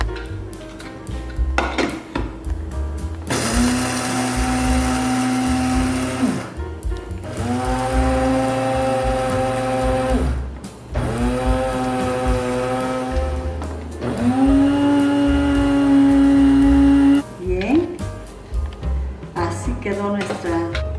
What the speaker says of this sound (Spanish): aquí tenemos nuestras hojuelas de avena, lo vamos a moler. Lo pueden hacer en un molino como esto o en la licuadora.